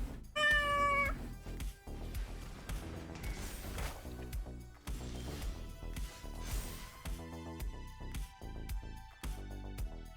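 A short cat meow sound effect from the digital card game Magic: The Gathering Arena rings out near the start over steady game music, with no talk.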